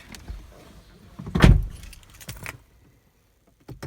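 Keys jangle and a car door lock is worked by hand with the mechanical key of a car whose key-fob battery is dead, a loud clatter followed by a softer click and a brief pause with no talking.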